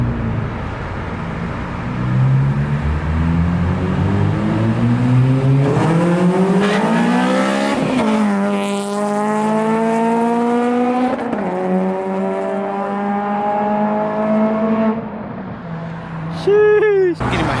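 An Acura RSX fitted with a PLM header and Skunk2 Megapower RR 3-inch exhaust revs hard and close. The engine note climbs steeply in several sweeps, drops back between pulls, and a final sharp blip comes near the end.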